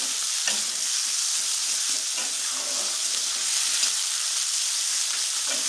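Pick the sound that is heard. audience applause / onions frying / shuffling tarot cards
onions frying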